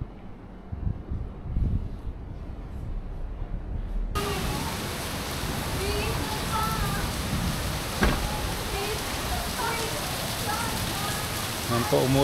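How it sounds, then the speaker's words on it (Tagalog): Steady broadband hiss of heavy rain in Antipolo, Rizal, Philippines, continuous and fairly loud throughout, with a low muffled thump and rustle near the start. "Ang lakas ng ulan."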